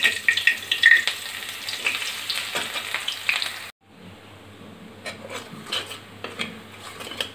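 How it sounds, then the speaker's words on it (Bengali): Onions frying in hot oil with cumin, stirred around the pan, give a steady broadband sizzle with scraping strokes. The sizzle drops out briefly near the middle and then comes back softer with sharp crackles. "পেঁয়াজ দিয়ে পেঁয়াজটা আমি একটু নেড়ে হালকা বাদামি করে ভেজে নেব।"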